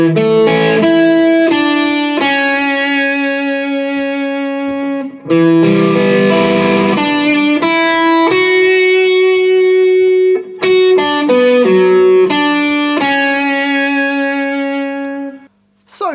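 An electric guitar through an overdrive pedal with an AC booster and reverb plays a piece from The Last of Us, picking slow sustained single notes and chords that ring out alone, loud and clear.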